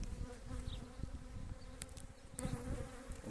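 Honey bees swarming around an aggressive hive, a dense steady buzz filling the air close by, with a few sharper passes as individual bees fly near.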